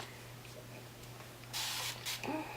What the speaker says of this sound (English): I'm gonna get my mist bottle and just spray around it just a little bit